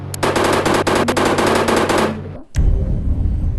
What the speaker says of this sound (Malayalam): നമുക്ക് മെഷീൻ ഗൺ എടുക്കാം